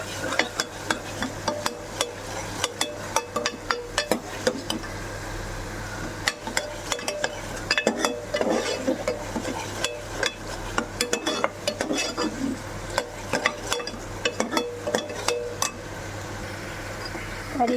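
A spoon scrapes and clinks repeatedly against a pot while yogurt curry with spices is stirred, steady rapid metallic taps over a low hum, with a voice talking at times.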